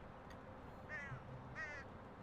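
A crow in the video game Elroy and the Aliens gives two short, distinct caws about half a second apart, fairly faint over a steady background hum.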